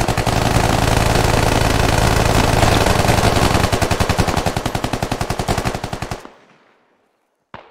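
Sustained automatic gunfire from the military shooter game Squad, loud and dense at first, then breaking into rapid distinct bursts before cutting off to near silence, with a faint sound at the very end.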